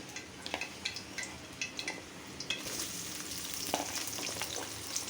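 Oil goes into a hot pan and sizzles at moderate level, with a steady crackle and a scattering of light clinks and pops across the first half, then a brighter hiss that builds toward the end.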